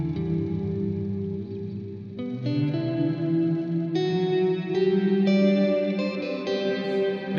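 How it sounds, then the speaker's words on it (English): Sustained electric guitar chords drenched in lush reverb from a Walrus Audio Slötvå pedal, with a deep sub-octave layer, swelling and ringing continuously. "when you make the reverb a little brighter, that makes that octave stick out way more"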